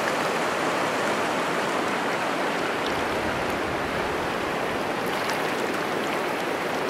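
Whitewater on Lake Creek, Alaska rushes in a dense, continuous roar, steady and close throughout with no voices.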